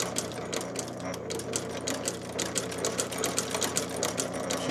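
A sewing machine stitches in a fast, steady mechanical clatter, its needle strikes ticking evenly and close, running continuously without pause.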